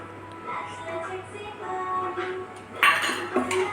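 Spoon clinks and scrapes against a pan while cauliflower is tossed with kitchen king masala, coriander powder, goda masala and cornflour, steady soft stirring with a sharper metallic rattle near the end, a low hum underneath.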